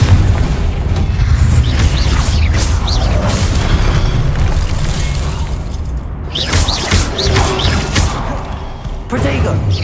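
An explosive fire spell cast in the Hogwarts Legacy video game, loud booming blasts and crackling bursts amid continuous combat noise, with a voice shouting spell names over the clatter.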